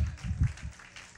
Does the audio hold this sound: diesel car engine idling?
no